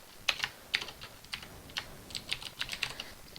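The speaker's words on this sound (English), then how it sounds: "I'll just type in Hitman here." Quiet, close clicking of fingers typing on a computer keyboard, with bursts of irregular keystrokes that grow quicker toward the end and no speech.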